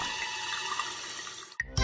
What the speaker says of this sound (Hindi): पानी अभी भी बह रहा है और बहता जा रहा है।